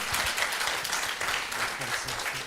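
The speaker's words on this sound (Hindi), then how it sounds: "इनके लिए तालियां बजा दो" An audience applauding at a motivational event, continuous dense clapping throughout, with a voice talking faintly beneath it.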